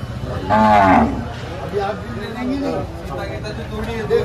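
A pregnant Gir cow at the Dhule cattle market gives a loud, close moo, with people talking nearby throughout.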